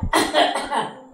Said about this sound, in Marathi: एकदा खोकला काढ.